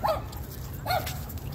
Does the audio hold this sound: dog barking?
yes